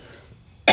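A single sharp cough bursts out at the very end, loud and close, after a stretch of quiet room sound.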